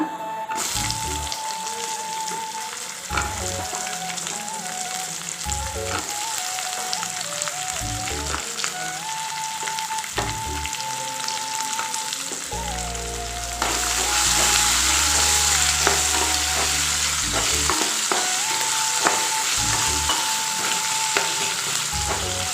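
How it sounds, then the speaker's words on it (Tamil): Onion and garlic sautéing in hot oil with fried lentils for tomato chutney, a continuous loud sizzle broken by repeated scraping stirs of a spoon in the pan, growing slightly louder midway. "இந்த வெங்காயமும் பூண்டும் சேர்த்து வதக்கலாங்க நல்லா"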